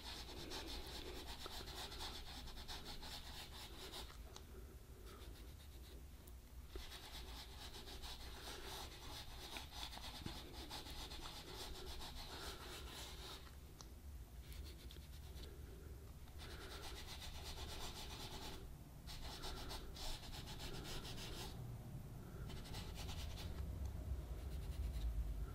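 Pastels are rubbed across textured pastel paper while hand-coloring a black-and-white print of a train depot, producing a continuous soft scratchy rasp in close strokes with short pauses between them.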